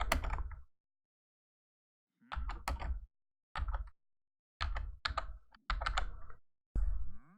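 Rapid bursts of keyboard typing, close and crisp, arriving in several short clusters separated by silent pauses.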